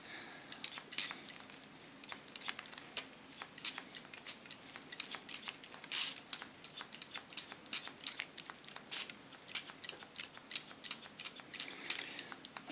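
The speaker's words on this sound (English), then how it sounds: "Make the line soft again with the slice cut technique." Scissors slice through hair in a soft slice-cut technique, giving a quick series of crisp, close snips and light metallic shearing over a quiet room.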